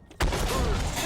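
Artillery fires in the tank game Armored Warfare: a single heavy boom bursts in after a quiet moment and rolls on as a dense, sustained roar.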